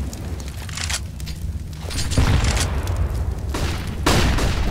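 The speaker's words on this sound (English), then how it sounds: "Grenade landing on Zeus." A grenade blast on the Nuke map in a CS:GO match, heard as a deep rumbling boom amid scattered sharp shots and thumps, fairly loud and continuous with no voices.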